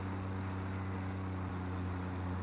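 A truck engine in Satisfactory runs as a steady, low, even drone, faint and unbroken, with no talk over it.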